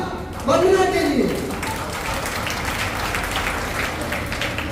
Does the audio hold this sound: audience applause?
yes